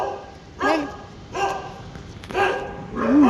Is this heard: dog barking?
yes